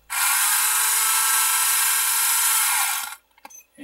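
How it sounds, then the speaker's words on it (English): A Tamiya motorized hand drill runs continuously for about three seconds with a steady, high-pitched whine, then stops, leaving a few faint clicks and handling noises. "Here are the two motorized tools by Tamiya. On the right is the drill and on the left is the router. I'll operate the drill."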